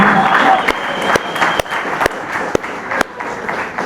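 Applause from a crowd at a music listening session, with scattered sharp individual claps standing out over a busy background murmur, moderately loud throughout.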